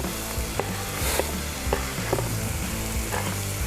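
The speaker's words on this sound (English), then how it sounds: "We're also going to add onions and garlic." Onions and garlic sizzle steadily in a hot pan with a few soft stirring knocks, a close, even frying hiss throughout.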